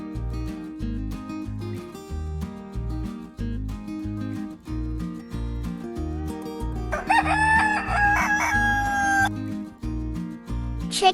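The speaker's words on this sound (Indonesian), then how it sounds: "chicken" A rooster crows loudly over a steady, rhythmic backing music track, a single drawn-out cock-a-doodle-doo lasting a couple of seconds in the middle of the passage.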